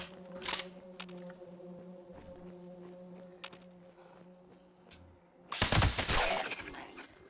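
Furious combat rifle with a faster fire rate in Fallout 76: a few isolated sharp shots early, then a loud dense burst of rapid gunfire near the end, over quieter game ambience.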